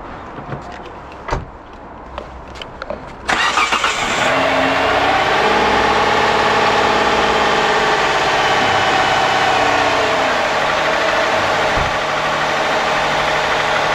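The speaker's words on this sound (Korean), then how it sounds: "죄송한데 시동을 한번 걸어봐 주시겠어요?" A Hyundai Grandeur TG, checked for a possible cylinder head or gasket fault, starts after a few clicks and taps, then idles with a loud, steady, even engine drone that continues alone.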